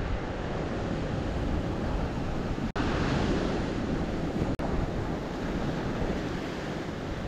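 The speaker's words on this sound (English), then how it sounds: "look at those waves" Ocean surf breaks steadily on the beach at Mirissa, Sri Lanka, a loud, continuous wash of waves with wind buffeting the microphone and two very brief dropouts.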